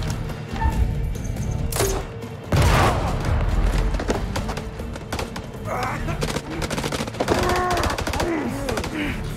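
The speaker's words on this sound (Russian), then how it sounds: "игра стрельба началась." Bursts of rapid gunfire and a heavy boom from the video game House of Ashes ring out over a dense, busy background, with some electronic tones mixed in.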